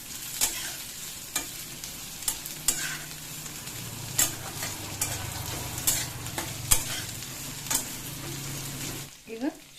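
Food fries and sizzles in a pan while a spoon stirs and scrapes it, with repeated sharp clinks against the pan over a steady sizzle, close up.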